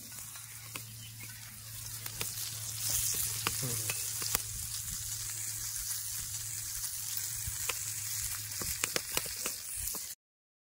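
Chicken fries in oil on a clay roof tile, a steady close sizzle with scattered crackles and pops that runs without pause for about ten seconds and then stops abruptly.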